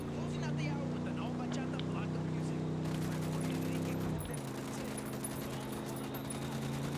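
Gunfire from the Tom Clancy's Ghost Recon video game, with rapid shots over a loud droning vehicle engine that shifts partway through.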